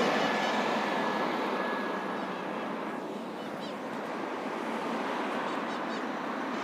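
A city bus on a street in Aparecida rolls past with a steady broadband rumble and road roar that swells and eases slightly, fairly close, with no talk over it.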